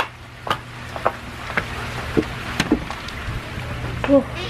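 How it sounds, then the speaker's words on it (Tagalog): Rain patters steadily in the background, with scattered sharp drips and knocks landing close by at irregular moments. "Maulan guys."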